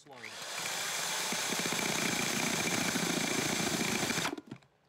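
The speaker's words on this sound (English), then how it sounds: "I'm right in the middle of drilling this hole, and it's going pretty good" A power drill whirs steadily for about four seconds, a rapid grinding chatter as the bit bores in, then winds down and stops.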